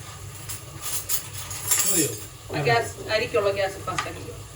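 Chicken biryani being stirred in a pot: close scraping and clinking of a utensil against metal over a steady sizzle, with several distinct stirring strokes in a row.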